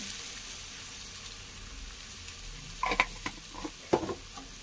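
Chicken curry with masala sprinkled in, being stirred in a sizzling pan: a low steady hiss, then a few distinct scraping spoon strokes and clinks near the end.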